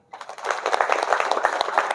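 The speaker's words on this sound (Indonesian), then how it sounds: "Tepuk tangan." A crowd bursts into applause at a talk on student protest movements. The dense, lively clapping starts abruptly and then stays loud and even to the end.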